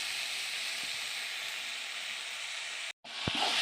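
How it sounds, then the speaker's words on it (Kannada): Tomatoes roast in hot oil in a pan, producing a steady, close, loud sizzle and hiss. A brief dropout near the end is followed by a small knock. "ನೀವೇ ನೋಡಿ ಎಷ್ಟು ನೀಟಾಗಿ ರೋಸ್ಟ್ ಆಗ್ತಿದೆ ಟೊಮೊಟೊನು"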